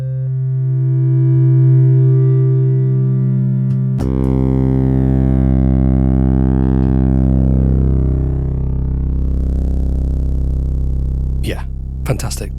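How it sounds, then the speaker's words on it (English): A synthesizer holds a clean, steady tone, then switches to a loud, buzzy distorted sound rich in harmonics that bends and glides in pitch. A few sharp clicks sound near the end. "Try using distortion as part of your synthesis"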